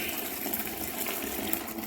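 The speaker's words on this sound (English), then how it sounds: "I'm gonna dump this dirty water out of the tank into the toilet" Dirty water from a hardwood floor cleaner's recovery tank is poured into a toilet, a steady, close gushing splash that keeps going without a break and has no talking over it.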